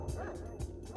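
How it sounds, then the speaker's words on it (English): Dogs bark in the video game Pathologic, two short muffled woofs close together against a constant background hum. "I just heard dogs."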